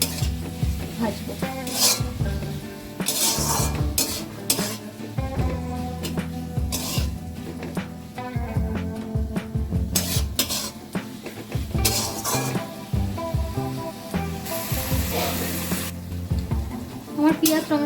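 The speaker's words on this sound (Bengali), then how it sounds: "এবার আমি এটাকে ভালো করে ভাজবো।" Chopped onion and tomato fry in a pan with turmeric. A steady sizzle runs under repeated scraping and stirring, with a spoon or spatula knocking sharply against the metal pan again and again.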